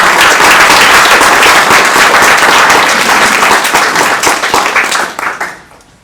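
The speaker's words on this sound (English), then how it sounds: "can we have a huge round of applause for the launch of the 2 Kannada books as well" Loud applause from an audience at a book launch for two Kannada books in Sydney, dense clapping sustained for several seconds before tapering off and fading at the end.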